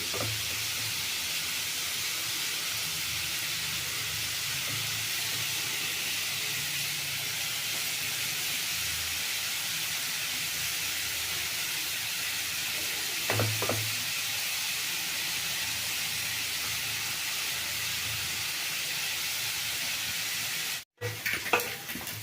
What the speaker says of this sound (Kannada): ಈಗ ಈ ಕ್ಯಾರೆಟ್ ಚೆಂದಾಗಿ ಹುರಿದಾಗಿದೆ.